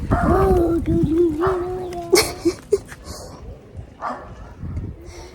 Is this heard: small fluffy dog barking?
yes